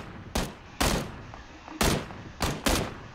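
Gunfire in a battle royale video game: five loud shot bursts in an uneven rhythm, some close together, over a quiet background with no talking.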